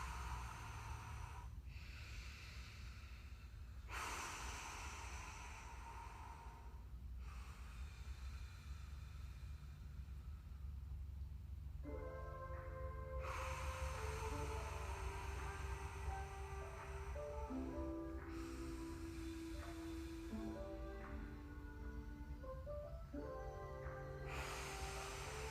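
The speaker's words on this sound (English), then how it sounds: "A few deep breaths here." Slow, deep breaths repeat during an at-home jiu-jitsu stretch, each long inhale and exhale heard faintly over soft background music with a steady low hum underneath.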